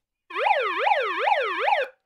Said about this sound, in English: Play the siren as well.